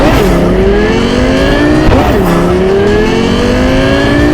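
The Rayfield Caliburn hypercar from Cyberpunk 2077, carrying a supercar engine built by Arasaka some 67 years earlier, roars loudly up through its revs, its pitch climbing, dropping at a gear change and climbing again as the car speeds along.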